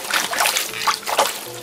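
Cabbage being lowered into a basin of lukewarm salted water for brining kimchi, giving soft splashing and sloshing in a few short bursts at close range.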